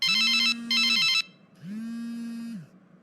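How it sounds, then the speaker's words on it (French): Telephone ringing in a repeating pattern: two loud bursts of ringing, a short gap, then a softer, steadier ring with a low ringback-style tone beneath, close and alone with no talk. "Il me faut laisser le téléphone sonner un peu longtemps pour jouer à l'important."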